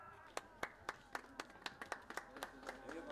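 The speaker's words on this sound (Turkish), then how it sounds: "İyi bari bir alkışlayan var yani" A lone person clapping at a political talk, a dozen sharp, evenly spaced claps, fairly faint against a quiet room, speeding up slightly toward the end.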